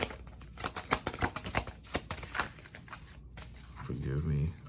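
Tarot cards being shuffled by hand, a run of quick crisp riffling bursts close by, with a speaking voice over the end.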